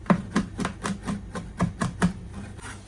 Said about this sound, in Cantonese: 然後將蝦米剁碎